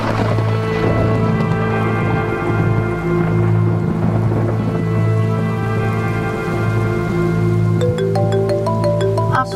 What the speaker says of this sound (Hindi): इतनी बारिश हो रही है बाहर